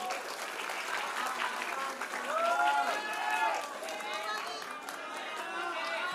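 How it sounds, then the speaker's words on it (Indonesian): Audience at a presidential candidate's question-and-answer session with residents in Pontianak bursts into sustained, dense clapping, loud and continuous, with cheers and crowd chatter mixed through it. "Kita tepuk tangan dulu dong untuk Bang Kava."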